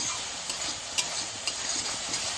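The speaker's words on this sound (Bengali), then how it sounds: "মশলাটা তো কষাচ্ছে, দেখতেই পাচ্ছেন" Spice paste for vegetarian aloo dum sizzles steadily in a pan, a dense hiss with small periodic stirring taps, close and without talk.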